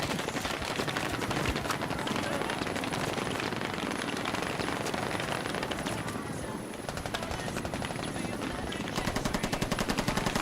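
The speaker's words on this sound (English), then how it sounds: "we're under heavy enemy fire" Dense, continuous machine-gun and rifle fire roars through a video game battle under heavy enemy attack, loud and unbroken, with rapid bursts layered over a steady background din.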